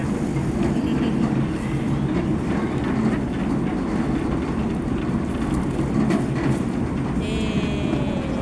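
A passenger train at a farm rolls past nearby with a loud continuous rumble and rhythmic clatter of wheels, and a brief high squeal near the end.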